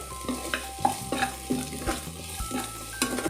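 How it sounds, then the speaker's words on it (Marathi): Onions and bay leaf sautéing in a pan for misal, with a steady sizzle and regular spatula clinks and scrapes against the metal every half second or so, close and unaccompanied by speech. "तर आपल्याला हे कांद्यासोबतच चांगलं परतून घ्यायचंय"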